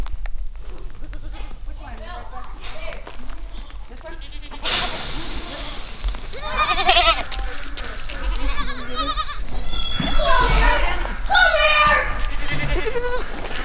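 Goats bleat repeatedly, close by, while people talk over them in the foreground with ongoing background noise.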